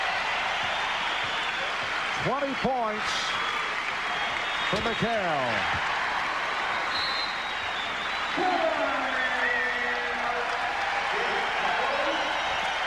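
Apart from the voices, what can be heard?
Boston Garden crowd reacting to Kevin McHale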